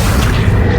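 Accio spell cast in Hogwarts Legacy, a brief loud, deep whooshing boom with a dense low rumble that fills the moment.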